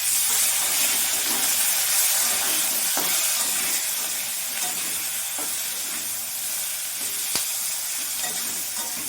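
Spices fry and get stirred in a pan for a Bengali chana dal fritter curry, a loud continuous sizzle and hiss filling the whole stretch, with occasional faint scrapes and clicks of a spoon.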